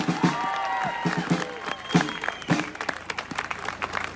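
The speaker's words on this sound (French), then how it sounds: "un tonnerre d'applaudissements pour Myriam Paloma" A crowd at an outdoor political rally claps and cheers, the applause uneven with sharp bursts and swells, mixed with scattered shouts and voices in the gathering.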